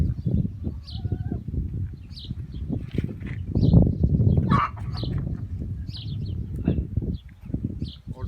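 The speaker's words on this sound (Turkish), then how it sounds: "Şu bir tavuğumuz da zaten bağırıyor." A hen in a backyard coop clucks and squawks repeatedly, loud and close, over low rustling and background farm noise.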